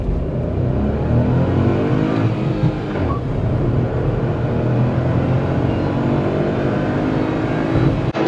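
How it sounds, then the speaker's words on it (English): A 2021 Renault Kiger RXZ turbo manual revving hard in sport mode while accelerating, with a loud, close, continuous engine drone whose pitch climbs steadily, dipping briefly at a gear change. "Now just keep listening to the engine."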